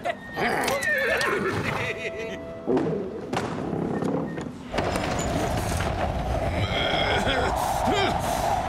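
Horses neigh loudly in a cartoon scene while hooves thud and clatter, with shouting voices and dramatic music mixed in.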